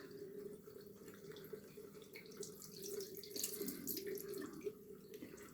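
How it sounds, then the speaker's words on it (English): Tap water runs into a bathroom sink while a face is rinsed during an evening skincare routine, a close, steady splashing stream with small surges and drips near the end. "rinse this off"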